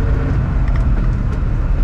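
A Trabant 601 engine drones loud and close from inside the car while driving, a steady rough rumble with no break.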